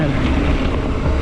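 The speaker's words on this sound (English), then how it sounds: "Feeling that wind." Steady wind rush blows across the microphone while riding a mountain bike on a dirt trail, a loud, continuous broadband roar with no break.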